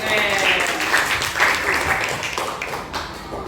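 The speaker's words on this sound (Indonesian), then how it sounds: "kasih aplaus untuk Indri" A classroom applauds student Indri with a burst of steady, dense clapping from many hands, fairly loud and close, with voices mixed in underneath.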